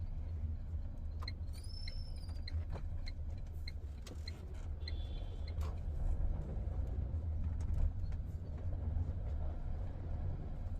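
A Tata Nexon diesel car drives along Pune roads, giving a steady, close low engine and road rumble inside the cabin, with a few faint high chirps above.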